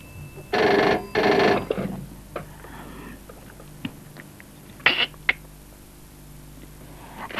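A telephone rings twice in short, loud trills before an answering machine picks up, followed by quieter clicks and faint handling noises indoors.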